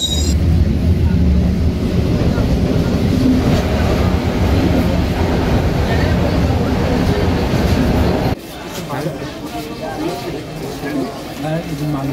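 Passenger train ride in Cairo, with a loud steady rumble of the carriage running along the track for most of the clip, then a sudden drop to a quieter interior. Voices talk over it.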